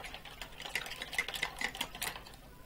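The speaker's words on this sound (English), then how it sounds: "I'm going to wash my brush." A paintbrush swished and tapped in a pot of water while acrylic painting, giving a run of quick clinks and light splashy swirls at close range, with no talking.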